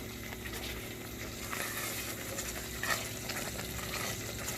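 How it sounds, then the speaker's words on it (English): Caramel for millionaire shortbread bubbles and sizzles softly in a pan, a faint continuous crackle with small pops throughout. "So I can hear it bubbling up."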